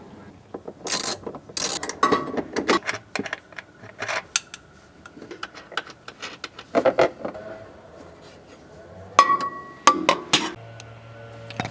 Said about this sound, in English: the next thing we're going to do is pull out the 4 10mm bolts